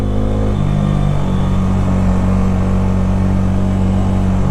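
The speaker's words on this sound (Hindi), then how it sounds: "मैं वीडियोस पे साउंड बाइक का साउंड देना चाहता हूँ" Motorcycle engine humming steadily throughout while riding through Guwahati city at night, a loud, continuous low drone with faint road and wind noise and no talking.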